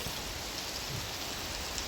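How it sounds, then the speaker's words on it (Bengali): Steady rain falls during a windy downpour, a dense, even hiss of drops that stays constant throughout at moderate loudness with no voices. "দেখেন ভালোই বৃষ্টি হইতেছে।"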